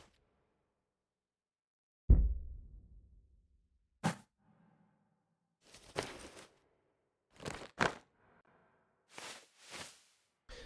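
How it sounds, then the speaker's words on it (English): Layered sci-fi vehicle Foley built from backpack rustles, a mountain bike, a small fire explosion, plastic crinkles and a blanket swish. A low boom opens it, followed by a series of separate short rustling and whooshing bursts, with no one talking. "there's a backpack sound, there's a mountain bike, there's actually an explosion in there, like a little fire explosion, more backpack, plastic layers, and then a blanket swish"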